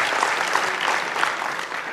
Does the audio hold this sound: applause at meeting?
yes